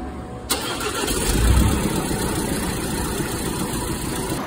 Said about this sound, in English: So the engine seems to be running again now without stalling